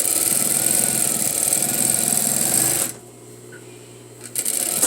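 Sewing machine stitching the seam of an all-in-one facing: a steady, close mechanical whir runs for about three seconds, stops into near quiet with a low hum, then starts again briefly at the end.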